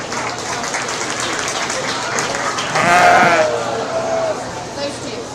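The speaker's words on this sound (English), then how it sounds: "Let's give them a round of applause." A crowd gives a short burst of applause at a 2024 sheep showmanship and market lamb show, with sheep bleating nearby and an announcer talking before and after.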